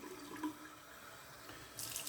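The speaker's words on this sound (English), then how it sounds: "I'm going to fill this mug up a little bit more with water." Tap water running steadily into a mug at a bathroom sink, a soft continuous stream heard up close, with a brighter splash near the end.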